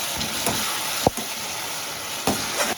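Spices and chili powder sauté in oil for moong dal with fish head, producing a soft steady hiss broken by a few sharp scrapes of a stirring spoon.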